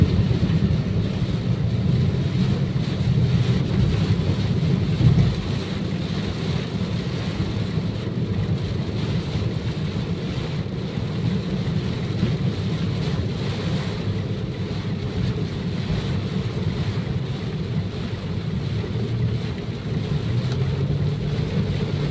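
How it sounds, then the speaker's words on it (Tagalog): A continuous wash of rain mixed with blustery wind rumble on a road in Socorro during zero visibility, steady and fairly loud, with no talking. "May kasamang konting hangin yung ulan."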